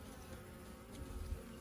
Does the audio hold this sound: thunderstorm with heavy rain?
no